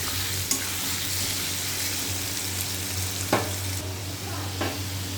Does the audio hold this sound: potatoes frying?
yes